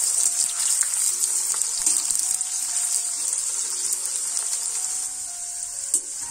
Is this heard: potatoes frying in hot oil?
yes